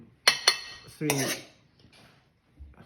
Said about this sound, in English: we just gonna put the egg fried rice in the middle of the plate